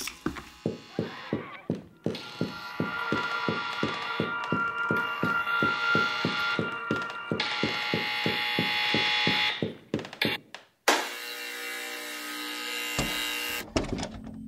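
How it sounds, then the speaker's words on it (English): An electronic buzzer sounds in the audio game Papa Sangre II, pulsing in a fast, regular rhythm for about ten seconds before cutting off. Brief bursts of other game noise follow. "Quick, follow the buzzer."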